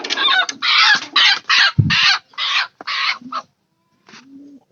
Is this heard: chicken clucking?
yes